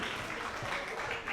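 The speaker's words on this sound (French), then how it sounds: "On applaudit très très fort." An audience at a children's holiday club show claps together, a soft, continuous patter of many hands, faint and somewhat distant, sustained evenly throughout.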